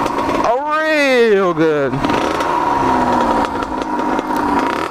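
A motorcycle engine revs up and then falls back to a rough running drone, loud and close, as someone talks briefly over it.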